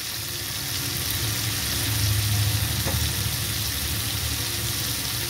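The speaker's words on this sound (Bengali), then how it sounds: "জিরেটা ভাজা হয়ে গেছে, জিরে ভাজার মধ্যে আমি টমেটোটা দিয়ে দিলাম।" Boiled tomato hits fried cumin in a hot pan, giving a steady, loud, broadband sizzle that swells slightly midway and holds throughout with no talking.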